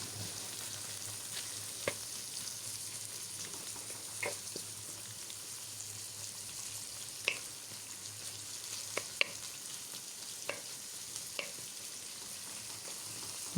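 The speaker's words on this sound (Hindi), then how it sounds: "हल्का हल्का इसको हिलाते रहना ताकि ये जले ना" Onions frying for chicken handi in a pot, a soft steady sizzle with occasional light scrapes and taps of a spoon as they are stirred, quiet and close.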